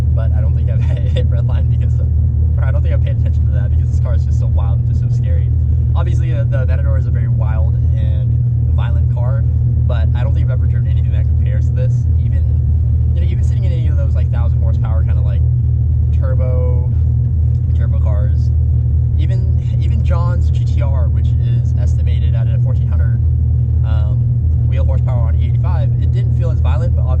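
A Dodge Viper supercar's engine holds a steady low rumble throughout while driving, loud and constant beneath someone talking almost continuously over it.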